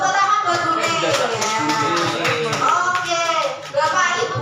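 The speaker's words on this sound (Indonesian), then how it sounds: "Tepuk tangan buat Bu Ning ya" A room of teachers in a school positive-discipline training session bursts into sustained applause for a colleague, dense hand clapping that stays loud throughout, with voices mixed in.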